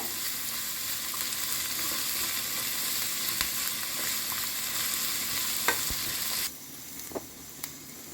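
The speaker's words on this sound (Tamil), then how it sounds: "இந்த முள்ளங்கி ஆயிலே நல்லா வெந்து வரட்டும்." Sliced radish frying in hot oil in a pan for chutney, with a steady close sizzle throughout and occasional clicks of stirring, the frying noise suddenly dropping quieter near the end.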